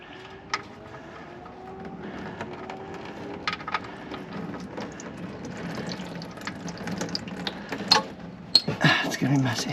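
Engine oil drains from an Alfa Romeo 4C during an oil change, a continuous trickling, splattering pour that grows louder and busier toward the end, with clicks and scattered mechanical noises throughout.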